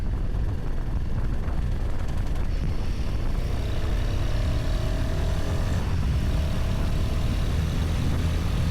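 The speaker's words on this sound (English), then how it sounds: "The rumble of a Harley in front." A Harley-Davidson motorcycle rumbles ahead on the road, a dense, continuous low engine drone mixed with wind and road noise, steady and fairly loud throughout with no talking.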